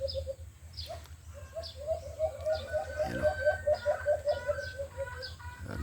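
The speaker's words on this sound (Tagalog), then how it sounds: "yung sisiw ko dito ko lang din nilagay sa likod at talagang humuhuni siya" A young chick peeps steadily in a rapid, high series of chirps, with other chickens clucking nearby outdoors.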